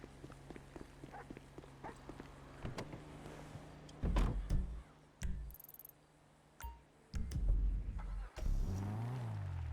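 A car arriving in GTA Online during a nightclub goods sale, with soft mechanical thumps and door-like clunks over a low engine hum, fairly quiet and intermittent.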